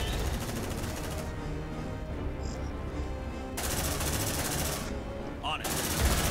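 Sustained automatic gunfire from Aliens: Dark Descent rattles in long rapid bursts with brief pauses and restarts, loud and close, joined by occasional electronic blips.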